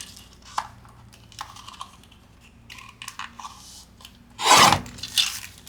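Scissors cut through the old flap of a paper envelope, giving a series of small, dry snips and rustles that build to a louder crisp crunch near the end, close up and fairly quiet.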